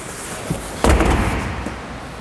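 A Mazda MX-5 convertible's fabric soft top is pulled up by hand, ending in a single solid thump as the roof latches into place, with rustling before and after.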